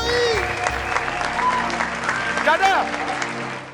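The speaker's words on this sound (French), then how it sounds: "Commencez à applaudir pour Kader, s'il vous plaît." Studio audience applauding a contestant named Kader on a French-language money game show, steady dense clapping filling the clip with music and voices mixed underneath.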